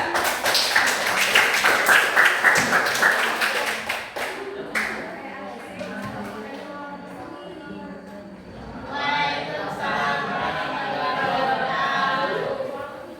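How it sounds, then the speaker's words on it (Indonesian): A school classroom applauds a student group, bright scattered clapping for about four seconds, then fading into mixed chatter and voices that swell again toward the end. "tepuk tangan untuk kelompok 3"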